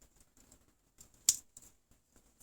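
Large scissors on a Victorinox Super Tinker Swiss Army knife give one sharp metallic snip near the middle, surrounded by faint, soft clicks and handling taps, close and quiet.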